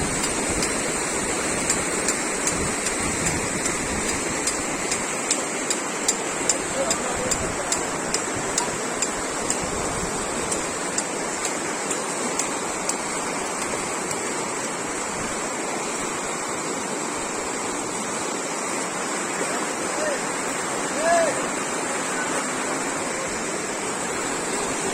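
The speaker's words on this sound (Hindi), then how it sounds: "पानी देखिए कितना गति में," Fast floodwater surges through a village ward in Bihar, a loud, steady roar of rushing current that holds for the whole stretch with faint ticking and wind noise on top.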